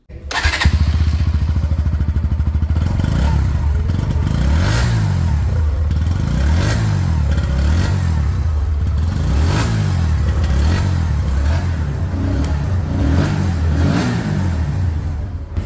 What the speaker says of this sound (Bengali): চলুন আমরা একবার এর এক্সস্ট সাউন্ডকে শুনে নিই